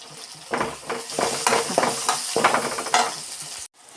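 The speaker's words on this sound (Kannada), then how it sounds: "ಚೆನ್ನಾಗಿ ಫ್ರೈ ಮಾಡಿ." Chicken gizzard with onions frying in a pan, a steady close sizzle broken by repeated scraping stirs of a utensil, ending abruptly.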